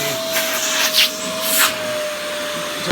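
Suction of a green Fantom Wildcat vacuum cleaner through its hose: a steady close-up whining roar with a few brief louder rushes of air as the opening is partly blocked.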